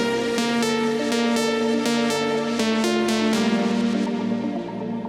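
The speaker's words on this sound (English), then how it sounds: "It's got this really cool, nice, sort of really uplifting lead synth sound in it." An uplifting trance lead synth from a track plays a bright, sustained melodic line with rhythmic pulsing accents over steady harmonies, loud and continuous, fading slightly in the upper range near the end.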